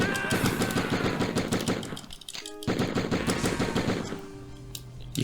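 Rapid bursts of gunfire from the Die Hard Trilogy video game, loud and close, crackling in dense rattling volleys with a brief lull midway before the shooting resumes.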